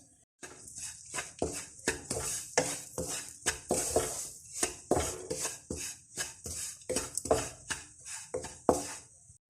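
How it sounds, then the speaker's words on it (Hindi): Urad dal flour roasting in ghee in a kadhai, with a spatula scraping and clinking against the pan in steady repeated strokes, close and fairly loud with no talk. "अब थोड़ा सा हम माश की दाल को भी भून लेंगे, इसके आटे को"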